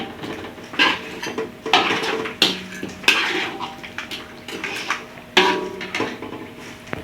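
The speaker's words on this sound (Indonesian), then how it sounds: "Kita aduk biar cabainya merata sama ikannya ya Bun." A utensil stirs fried fish through chili balado sauce in a pan, a close run of repeated scraping and clattering strokes with wet, sizzling texture between them and no talk.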